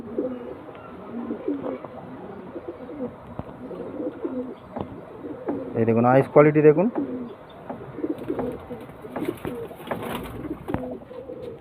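Pet pigeons for sale coo in a low, repeated rhythm throughout, with a louder burst of cooing midway, while someone talks over them nearly the whole time.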